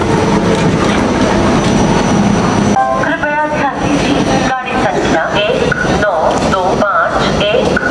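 A passenger train pulls into Dwarka railway station, with a steady rolling rumble and rail clatter continuing throughout and brief squeals from the wheels, while someone talks over it.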